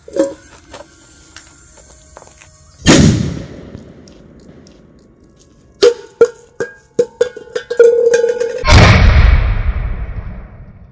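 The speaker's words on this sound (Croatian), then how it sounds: "Sad probavam Commandos i na kraju sam ostavio, ajmo reći, najveću petardu, Big Bang, tako da idemo na Commandos." A Commandos firecracker goes off outdoors at a pyro show: a loud sharp blast, then a run of rapid cracking pops, then a second heavy boom that rumbles away.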